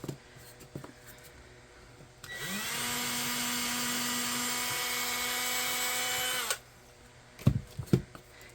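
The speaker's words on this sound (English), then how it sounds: "I'm gonna just drill." A power drill whirs steadily for about four seconds with a high, strained whine, then cuts off, followed by a few light knocks.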